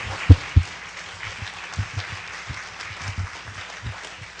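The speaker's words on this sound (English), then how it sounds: "let's give our panel experts one round of applause" Audience applauding a panel at a university neurological forum, a few sharp claps up front followed by sparse, quieter scattered clapping from a small crowd in a room.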